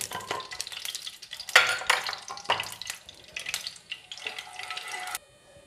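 Potatoes fry in oil in a pan, a crackling sizzle broken by several loud stirring scrapes and clatters at uneven intervals, close by, ending abruptly in quiet with no speech.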